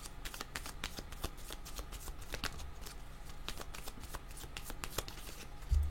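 Tarot cards being shuffled by hand in a steady run of quick crisp riffles and slaps, close and fairly soft, continuing without pause and with no talking.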